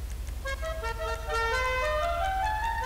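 A custom musical car horn in the GTA 5 video game, playing a clear melodic run of rising tones over a low engine rumble, fairly loud and alone.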